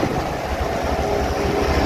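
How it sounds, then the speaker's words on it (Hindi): A 1997 Kato 25-ton mobile crane engine runs loud and close in a steady low diesel rumble, working at a mosque construction site, with no talking. "अभी इसका इंजन भी मैं आपको दिखाता हूँ"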